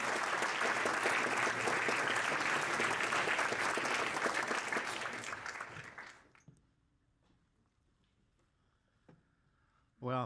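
Audience applause welcomes a speaker to the podium at a higher-education symposium, loud and sustained for about six seconds, then fading out into near silence with a few faint stray sounds.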